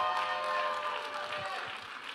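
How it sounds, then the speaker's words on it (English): Crowd applause for interagency staff at a crowning ceremony in Seattle, a steady wash of clapping from a large indoor audience, fairly even throughout with a few voices mixed in. "Now they're clapping."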